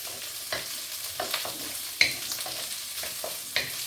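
Onions fry in a pan with a close, steady sizzle, broken up by irregular spoon scrapes and stirring bursts roughly every half second.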